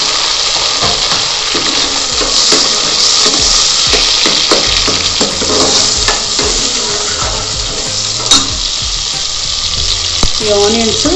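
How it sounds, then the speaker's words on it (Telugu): Onions and fresh mint leaves fry in a pan for a home-made veg pulao, giving a steady sizzle with occasional clinks and stirring scrapes while a voice talks over it. "ఈ ఆనియన్స్ బాగా వేగాలండి. అంటే ఆల్మోస్ట్ హాఫ్ వేగిపోవాలి."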